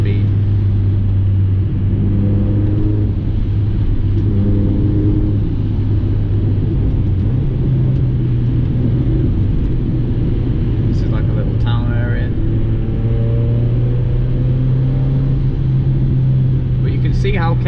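Stock Mazda MX5 on standard wheels and tyres driving along a 60 road, with a loud steady engine drone heard from inside and rising pitch as it accelerates. Someone talks over much of it.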